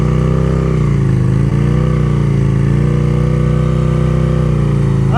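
A motorcycle engine runs steadily at low revs during slow-speed riding drills, a loud, close, continuous drone with slight pitch wavering and one brief bump partway through, no voices.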